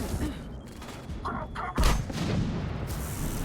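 Grenade blasts and gunfire thump in Mass Effect Legendary Edition combat, with one heavy boom standing out partway through a steady, noisy firefight, alongside some talking.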